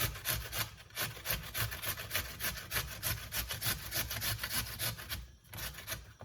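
Celery is rubbed against a hand grater in quick, repeated rasping strokes while chicken soup is being made. The scraping is close and rhythmic, with brief pauses between strokes and no voices.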